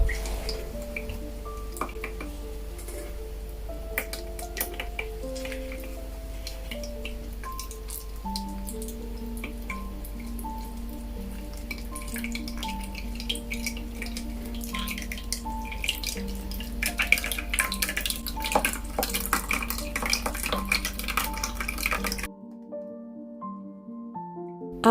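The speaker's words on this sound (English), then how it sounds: "I decided to remove the holders and use my own hand to squeeze out the remaining juice" Red currant juice dripping as the berries are squeezed out by hand: scattered, irregular drips and small splashes over soft, steady tonal music, stopping abruptly near the end.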